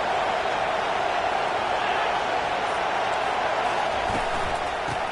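Crowd noise from a college football video game against Wake Forest, a dense, continuous roar of cheering at steady loudness with no letup.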